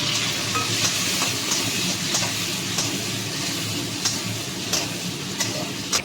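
Chopped coconut and tomato fry in a pan for chana dal, a loud, continuous close sizzle punctuated by regular light clicks and scrapes of stirring, with no talking.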